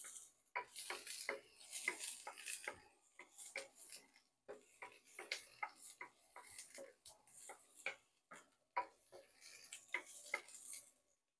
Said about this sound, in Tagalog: saute the garlic, saute the onion